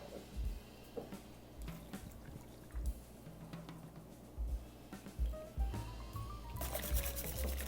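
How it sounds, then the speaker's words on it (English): Milk is poured into crepe batter in a bowl, a soft trickling pour with small splashes and bumps, faint and close, rising into a fuller splash near the end. "We'll add our cup of milk."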